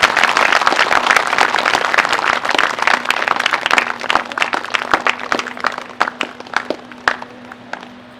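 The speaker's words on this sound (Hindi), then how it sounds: "सब ताली बजाएंगे यीशु मसीह के लिए" A church congregation applauds during a Hindi sermon, with dense clapping at first that gradually thins into scattered, sharper claps.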